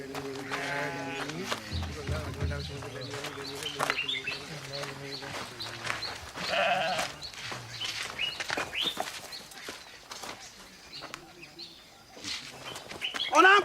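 Sheep bleating nearby, a few wavering calls from the animal mixed with bird chirps and scattered human voices talking in the background.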